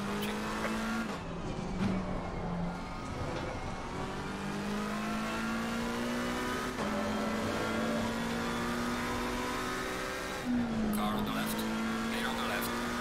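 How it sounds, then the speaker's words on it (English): Race cars in Assetto Corsa Competizione, including a McLaren 720S GT3 Evo and a Mercedes, roar past at close range. The high engine whine holds steady, then steps through gear changes, with a faster car closing in. "Faster car approaching."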